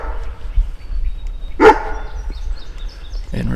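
A dog barks during a turkey hunt outdoors, a single short burst near the middle over rustling footsteps and ambient woodland noise.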